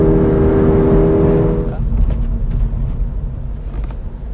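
A 2022 Toyota GR86 in sport mode revs loudly and holds a high, steady engine note, then drops away into a lower, rougher rumble and idle.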